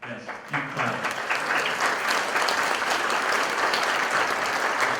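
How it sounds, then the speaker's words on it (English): Steady, dense applause from a concert audience at a 50th-anniversary performance at the State Museum of Pennsylvania, swelling after a brief opening and holding loud and even throughout, with no talk over it. "Yes, keep clapping."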